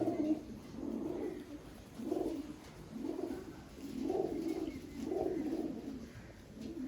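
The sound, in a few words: Malbai pigeon chick cooing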